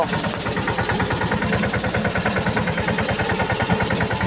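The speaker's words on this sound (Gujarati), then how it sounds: "અત્યારે ટ્રેક્ટર લઈ અમે વાડીએ જઈએ" A tractor engine on the way to a farm chugs in a steady, fast, even pulse, loud and close, with no voices over it.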